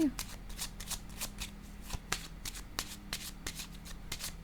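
A tarot card being laid down during a reading, heard as a run of soft, rhythmic card riffles and slaps close by, with a steady low hum underneath.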